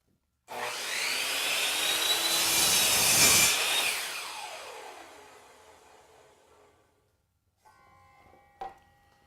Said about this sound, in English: lower the blade to align it on the waist side of that mark, and then I'll make a compound cut